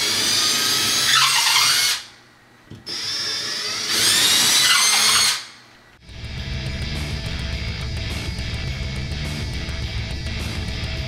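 Power drill boring holes into a wall for a monitor mount: two loud high-pitched whining bursts of about two seconds each with a short pause between, followed by a lower, steady mechanical rumble.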